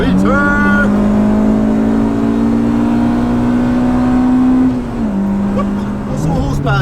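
A Honda Civic engine hums steadily as the car drives, with the pitch holding level, then dropping as it shifts or eases off, loud and close inside the cabin.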